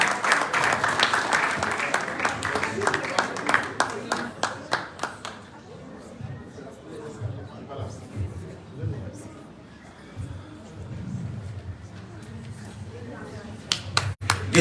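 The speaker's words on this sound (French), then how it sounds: "Est-ce qu'on peut continuer d'applaudir Sa Majesté, s'il vous plaît?" An awards ceremony audience claps, loud dense applause at first that thins into scattered claps and fades, then swells again briefly at the end, with faint voices beneath.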